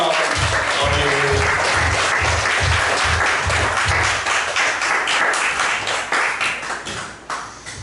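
Loud, dense applause from a church congregation at a Sunday worship service, steady and full for several seconds before tapering off toward the end, with no talking over it.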